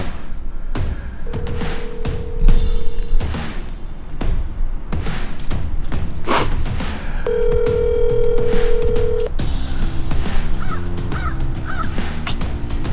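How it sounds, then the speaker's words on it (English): Phone tones beep as a call is placed outdoors during a deer hunt, with a steady electronic tone and a short series of keypad beeps over loud wind and rustling. "Let me give old James a call"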